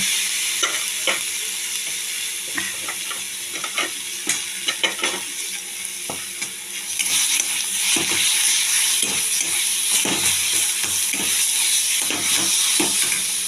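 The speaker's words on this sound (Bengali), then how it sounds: "এইভাবে আমি একটু ফ্রাই করে নেব" Mashed eggplant and egg fry in a pan with a steady sizzle that gets louder halfway through. A utensil stirs and scrapes against the pan over it in frequent light clicks, with no talk.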